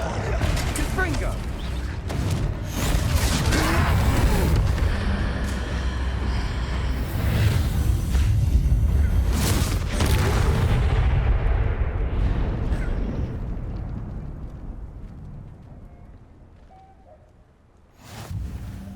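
A Confringo fire spell from Hogwarts Legacy bursts in a loud, booming blast with crackling debris, part of a dense battle mix of impacts and effects that fades out before a final sharp hit.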